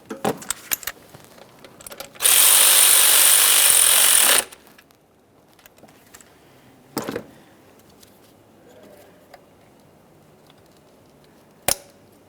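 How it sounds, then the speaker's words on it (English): A power ratchet tightens 10mm mounting bolts on the intake plenum of a 2012-2018 Nissan Maxima 3.5L V6, one loud burst of about two seconds close by, followed by scattered tool clinks and clicks. "we're going to start resecuring these areas with our 10mm headed mounting bolts as well"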